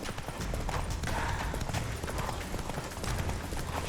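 Roach the horse gallops in Witcher 3, hooves clip-clopping in a fast, steady rhythm close by under the game's ambient sound.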